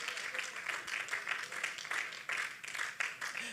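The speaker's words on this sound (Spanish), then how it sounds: "Denle un aplauso fuerte al Señor." Congregation clapping in a church service, a moderately faint, dense round of applause with a loose pulsing rhythm that holds steady for a few seconds.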